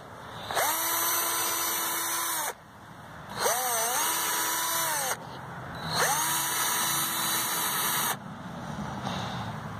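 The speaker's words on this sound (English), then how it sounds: "We grabbed a drill. It's got 3/8 at the end." A power drill with a 3/8 bit whines in three separate bursts while boring holes into a pumpkin, each spinning up, running steadily, then cutting off, with quiet pauses between.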